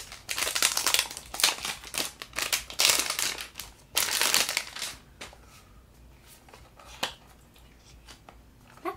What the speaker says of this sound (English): I'm gonna take off the cellophane.